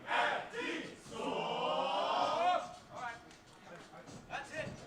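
A wrestling crowd chants in rhythmic bursts, with loud group shouts rising and falling over a few seconds, heard faintly behind the event's noise.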